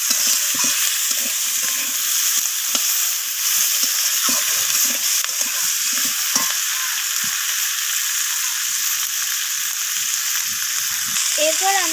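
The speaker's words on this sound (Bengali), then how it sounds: "সব কিছু সবজি এইভাবে নাড়াচাড়া করে আমি ভাজা ভাজা করে নিচ্ছি" Beans and vegetables stir-frying in fish oil, a steady bright sizzle broken by scraping stirs of a spatula in the pan, no voices heard.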